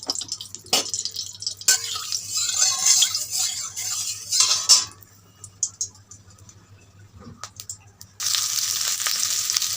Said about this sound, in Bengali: তেলের মধ্যে ভেজে রাখা এই ঢ্যাঁড়সটা আমি ছেড়ে দিলাম।